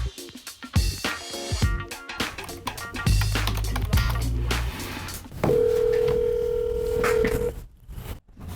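Touch-tone keypad dialing for a wholesale real estate cold call, with a quick run of clear beeps and then a steady, sustained dial or ringback tone, fairly loud and close with no talking.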